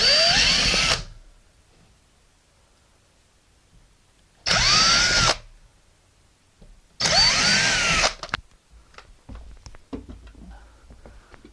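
Power drill boring through a wall while wire shelving is installed, three loud whirring bursts separated by quiet gaps, with faint handling clatter at the end.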